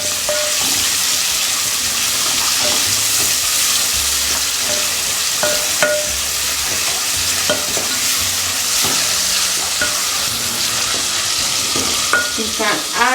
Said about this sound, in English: So our onions are ready, so we put in the tomatoes.